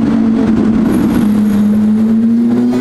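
A loud sports car drives along a road at an upscale car meet, its engine a steady low roar that holds throughout with a slight rise in pitch near the end.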